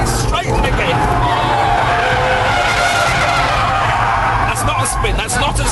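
Sports car skidding on a test track in a near spin during an Audi R8 versus Porsche Carrera 4S comparison, a loud sustained tyre scrub and engine roar held close throughout, with a voice talking over it.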